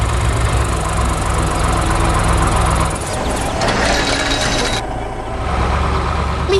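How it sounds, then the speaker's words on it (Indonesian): A cartoon machine hauling big logs and tree trunks through a busy forest rumbles with a loud, steady engine drone that shifts in tone partway through. "Mesin itu sedang membawa kayu besar dan batang pohon, seperti pengangkut material yang bekerja keras di hutan yang penuh aktivitas."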